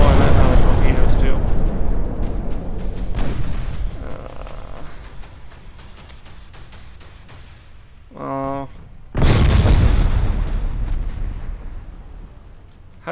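Heavy torpedo explosions hit ships in the naval game Ultimate Admirals: Dreadnoughts, with deep rumbling blasts at the start and another loud boom near the end, and a brief electronic beeping between them.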